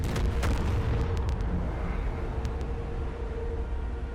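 Pentagon blowing up in a cutscene of a Black Ops 1 Zombies mod: a sustained, heavy low rumble of explosion with scattered sharp bursts early on, loud and steady throughout.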